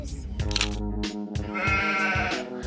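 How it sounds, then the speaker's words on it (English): A mountain goat in a tunnel bleats with a wavering, nasal cry, close by and fairly loud, repeated in a couple of drawn-out calls. "there's a mountain goat hanging out in the tunnel."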